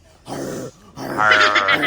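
Low, rough growling in two bursts, close and loud, the second longer and harsher.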